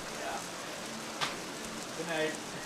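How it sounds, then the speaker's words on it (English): Heavy rain pours straight down on a waterlogged baseball diamond during a high school game, making a steady broadband hiss that runs unbroken throughout, with faint distant voices underneath. "Rain's coming straight down, but it's heavy."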